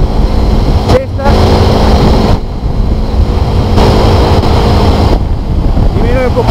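A brand-new motorcycle being ridden through its break-in period hums steadily at high revs, with short dips where the rider shifts down through the gears, and heavy wind rush over everything.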